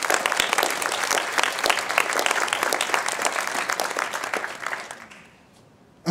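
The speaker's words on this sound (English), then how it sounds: "Let's give them a round of applause for making this happen." A full audience at an iOS demo day applauds funders and sponsors with dense, loud clapping that holds steady for about five seconds, then fades quickly into near silence.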